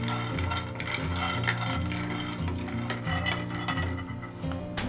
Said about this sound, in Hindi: बादाम को हमने लगातार चलाते हुए 5 मिनट तक भून लिया है